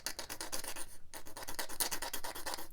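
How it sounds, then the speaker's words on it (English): Glass file chattering against a plastic part of a Revell SR-71A Blackbird model kit, a quick rapid rasping scrape repeated in steady strokes with one short pause, close and fairly quiet, no talking. "That's chatter between the workpiece and the blade"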